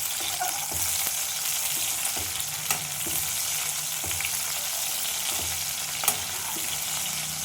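Steady, close sizzling of green chilies frying in a hot pan, with occasional soft clinks and stirring scrapes throughout.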